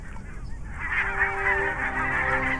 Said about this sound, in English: most migrating birds bid their goodbyes to the bird paradise